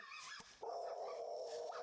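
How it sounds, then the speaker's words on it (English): Three dogs in a frantic attack, loud close barking and yelping with high whimpers, one sharp bark then a sustained excited whining cry running over the rest. "Oh, it's dogs."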